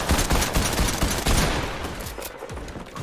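Primal SMG gunfire in the video game Fortnite: a fast, loud burst of rapid shots for about a second and a half, then it thins into scattered, fading pops, with no talking.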